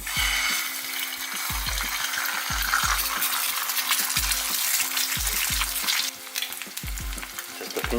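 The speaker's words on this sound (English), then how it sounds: "I'm going to cook egg fry." An egg fries in a hot pan for a Korean home bibimbap dinner, giving a loud, continuous crackling sizzle with repeated low pops and spatter bursts throughout.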